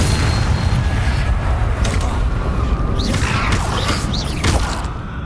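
The Incendio fire spell goes off in Hogwarts Legacy as a series of booming bursts and crackles, each flaring and fading over a continuous rumbling game backdrop.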